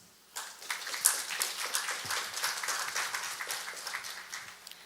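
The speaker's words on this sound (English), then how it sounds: "Please give a warm welcome to Dr. Lee with a loud applause." An audience at a national ecology institute's anniversary symposium applauds to welcome a presenter: a burst of many hands clapping at moderate distance that swells quickly, then slowly tapers off.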